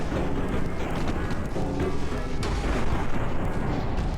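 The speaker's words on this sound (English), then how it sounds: "Those smaller guns and casemates that she has on the side are pretty effective at keeping some fire down" Battleship guns firing in the naval game Ultimate Admiral: Dreadnoughts, a 1912 US battleship with side casemate guns, giving a dense, steady barrage of booms and rumbling blasts that overlap without a break.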